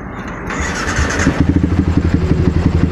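A Yamaha Vixion motorcycle engine, with its timing just set, cranks briefly and then fires into a close, steady, throbbing idle.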